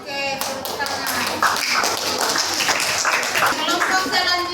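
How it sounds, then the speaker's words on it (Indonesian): A classroom audience applauds after a group presentation: many hands clap in a dense, steady patter for several seconds, fairly close. "Oke, tepuk tangan."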